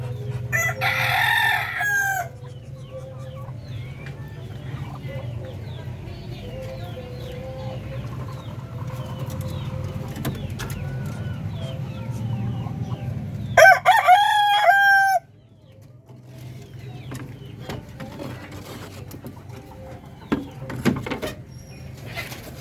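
Breeder chickens at a farm cluck and call near and far, with a loud rooster crow partway through over a steady low background hum.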